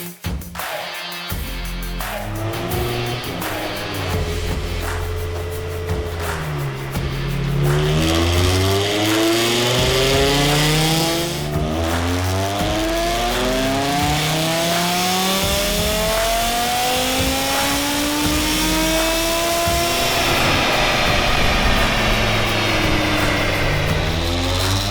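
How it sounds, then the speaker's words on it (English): A BMW M6 with a V10 engine on a dyno after exhaust work, revving hard through long rising sweeps to a high wail, dropping back and climbing again, loud and close with no talk. "So we have this V10 M6 on the dyno"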